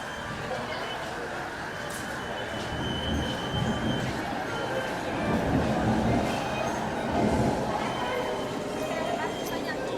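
MRT metro train in Kuala Lumpur, a steady rumbling roll of the carriages with faint high rail squeal, continuous and fairly loud throughout, with voices murmuring underneath.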